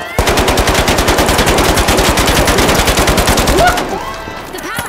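Rapid sustained automatic gunfire in The Finals video game, fired at a player holding a riot shield, loud and evenly paced for about four seconds, then cutting off into quieter game sounds.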